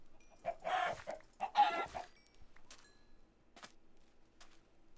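Minecraft chickens cluck in two short bursts close by, followed by a few faint clucks and clicks.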